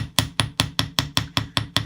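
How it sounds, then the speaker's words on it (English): Chasing hammer flattening the curved edge of a French ear wire, struck in a steady series of about nine even, sharp metallic taps, close and clear with no talking. "So we're going to take that and just hammer that little edge flat"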